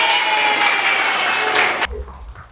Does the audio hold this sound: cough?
no